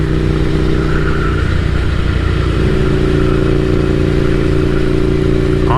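A Ducati Scrambler café racer motorcycle engine idling close by, a loud steady low thrum with mechanical clatter, holding an even level throughout with no voices.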